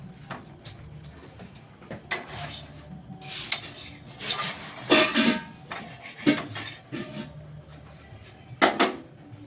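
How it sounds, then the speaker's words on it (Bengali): Pizza breads frying in a pan and pressed flat with a metal spatula give irregular scraping and rubbing bursts, some louder and sharper, over a low background hiss. "এরকমভাবে আমি সব ব্রেডগুলি আগে ভেজে নিচ্ছি।"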